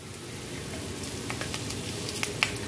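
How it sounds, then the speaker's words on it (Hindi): Green chilies sizzle in hot oil alongside fried peanuts, a steady close crackling hiss with a few sharper pops near the end. "थोड़ी सी हरी मिर्च डाल देती हूँ"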